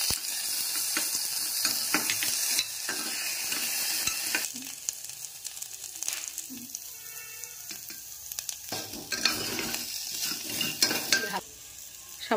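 Spices and bay leaf for Odisha dalma sizzle in hot oil while being stirred in a pan, a continuous frying hiss broken by scraping strokes, with a brief splash of added water, close and without talk.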